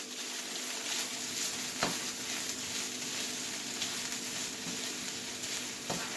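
Spinach sautéing and wilting down in a pan, a soft, continuous sizzle with occasional light clicks of a utensil, close but fairly quiet, with no talking.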